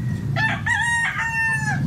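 A full-grown rooster crows once, loud and close, with a drawn-out rising and falling call under faint background noise.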